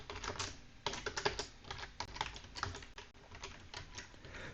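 Steady, close computer keyboard typing while writing C++ code, quick irregular key clicks in short runs with brief pauses, alone without talk.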